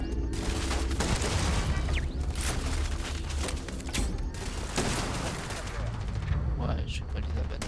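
Video game gunfire in Starfield: dense, continuous bursts of shots and impacts crowd the whole stretch, loud and close, with no quiet gaps between volleys.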